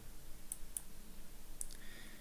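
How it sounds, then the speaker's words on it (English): A computer mouse clicks on a tab in a software interface: three short, faint clicks spaced over about two seconds against a quiet background hum, with no talking. "Now click on My Files tab."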